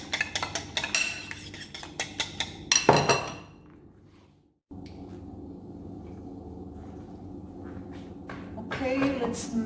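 A fork whisks eggs in a bowl for a rolled omelette, with rapid close clinking taps in bursts, a pause to near silence, then renewed clinks over a faint background hum.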